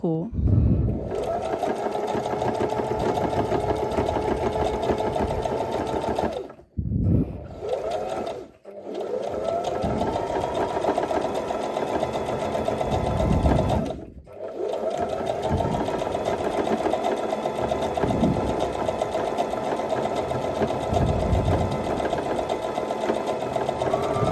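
A classic domestic sewing machine stitches elastic fabric in long steady runs of mechanical whirring, loud and close, stopping briefly between seams, with someone talking over it.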